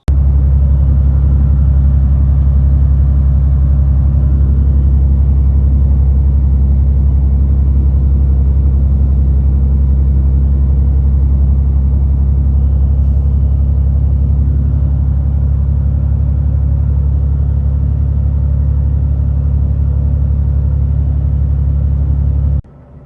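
A repaired car engine idles steadily after a new timing belt, cam and crank timing set, and fresh spark plugs, a loud continuous low rumble running unbroken for the whole stretch, with no voices.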